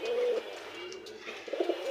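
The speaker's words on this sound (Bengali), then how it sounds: "এই যে কবুতর" Pigeons on a farm give a soft, brief cooing, a low burbling call near the start and again toward the end, with faint background hiss between.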